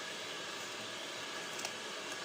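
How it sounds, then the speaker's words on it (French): Electric kettle heating water on a tabletop, a steady broadband hiss and rumble of building boil with faint bubbling clicks, moderately quiet and constant throughout. "ce que vous entendez, c'est la bouilloire"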